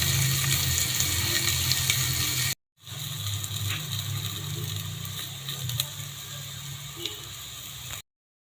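Water pours steadily into a rice cooker pot holding sautéed mung beans, onion, garlic and ginger, a continuous close splashing that breaks off briefly before resuming and then stopping.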